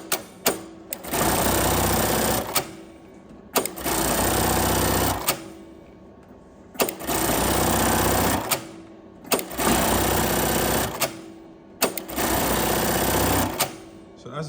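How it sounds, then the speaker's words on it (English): A JACK JK-T1900 electronic lockstitch industrial bar tacker runs through five or six loud, evenly spaced sewing cycles, each a dense mechanical rattle with a clack at start and end and brief quiet gaps between. "JK-1900 barra tack sewing machine."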